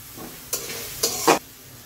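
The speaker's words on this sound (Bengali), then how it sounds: "দিয়ে দিচ্ছি চেরা কাঁচা লঙ্কা।" Slit green chillies go into a hot wok with onion, ginger and garlic, giving a low sizzle and three short, sharp bursts of stirring or frying, the last one loudest, with no voices.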